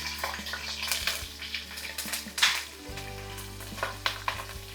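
Green chillies, dried red chillies and onions fry in a pan, giving a steady close sizzle with scraping stirs and a few clinks, and no voices.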